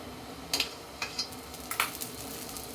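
Ghee heats in a pan before pistachios are fried, with a soft continuous sizzle and several brief scraping stirs of a spoon against the pan, fairly quiet and close.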